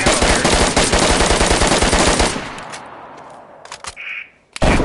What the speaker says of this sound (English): trying to shoot this top part of the wall right now